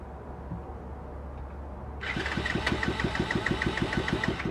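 An X6 pocket bike engine under restoration catches and fires, then runs with a fast, even putter of close, moderately loud firing pulses after a quiet start.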